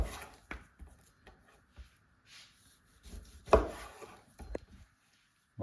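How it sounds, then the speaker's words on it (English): A knife slices through pork belly on a cutting board, leaving a few scattered soft cuts and one sharper thud, close and fairly quiet, with no talking. "So off the leaner end, we're just going to cut belly slices like that."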